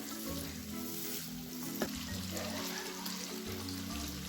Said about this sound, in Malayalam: ഇത് നമുക്കൊന്ന് വഴറ്റിയെടുക്കാം.